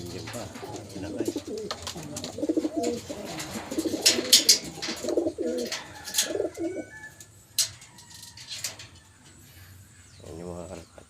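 Pigeons coo in low, throaty bursts close by, with occasional chirps and rustling, while a person talks intermittently in the background.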